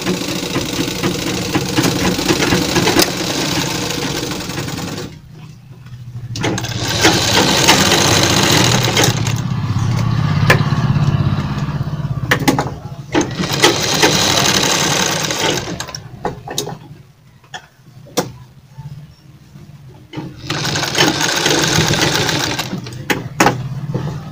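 A sewing machine stitches the neckline of a cotton kurti in several loud, steady runs of a few seconds each, broken by short pauses and quieter gaps.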